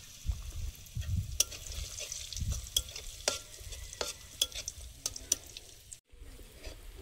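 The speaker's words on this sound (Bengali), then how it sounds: "কাজু আর কিশমিশটা ভেজে নেব তেলে।" Cashews and raisins fry in hot oil in a pan, a continuous soft sizzle broken by frequent crisp scraping clicks of a spoon stirring, close by with no talking.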